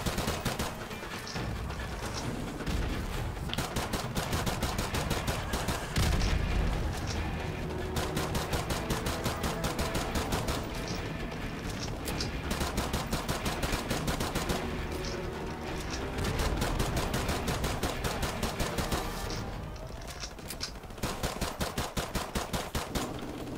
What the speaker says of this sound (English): I'll just lay fire with my Beretta.